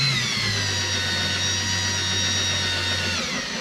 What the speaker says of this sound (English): So I just turn it down with the file here.